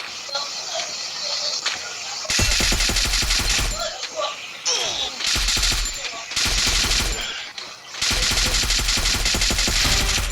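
Rapid automatic gunfire in a video game, loud bursts of rattling shots broken by short pauses and shuffling movement, with rounds firing near the listener.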